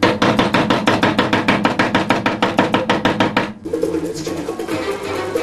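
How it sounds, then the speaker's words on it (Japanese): Rapid, steady knife chops on a cutting board, about twenty sharp strikes in a row, then a softer sizzling or scraping sound takes over, as vegetables are prepared for cooking. "まずは俺の包丁さばきを見ろ。"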